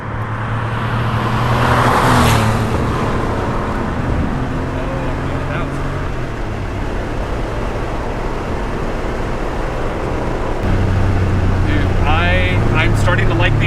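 1986 Porsche 911 with the 3.2 engine, driving with a loud, steady engine drone and road rumble from inside the car, pitch shifting with gear changes, with voices talking over it.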